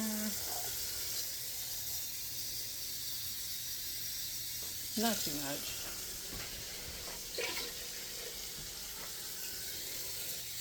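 A kitchen tap runs into a cup while collard greens are being prepared, a soft continuous hiss lasting about ten seconds with a brief voice and light clatter partway through.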